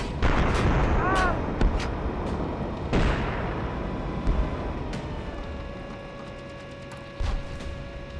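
M1A1 tank main gun firing in a combat video game, heavy booming shots over a dense rumbling battle din, with a mechanical whine lingering afterward, loud and close.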